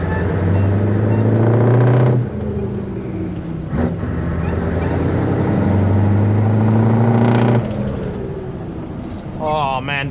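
A Scania 143 500 V8 truck engine drones loudly from the cab, a deep steady rumble that drops briefly between gear changes and swells again, with a short hiss near the end.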